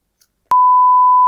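A single steady censor bleep covering a spoken name cuts in sharply after a brief faint sound and holds as a loud, pure tone until the end.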